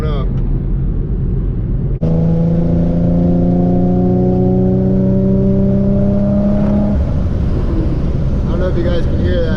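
Supercharged Infiniti G35 with a pops and crackle tune, heard from inside the car as the exhaust drones loudly and the engine climbs steadily in pitch under constant road noise.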